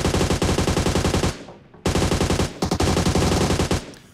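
Gunfire in the mobile battle-royale game PUBG Mobile: loud, close bursts of rapid automatic fire, a brief pause, then another long stream of shots ending in a few scattered rounds.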